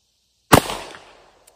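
A single sharp gunshot from a Taurus Model 66 revolver at an outdoor range cracks loud and close, then its echo trails off over about half a second, followed by a faint tick.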